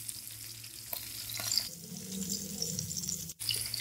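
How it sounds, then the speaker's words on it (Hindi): Garlic and red chilies fry slowly in oil over low heat for a dal tadka, giving a steady close sizzle with faint stirring and a brief dip near the end. "एक गोल्डन सा कलर आने तक हम इनको फ्राई करेंगे"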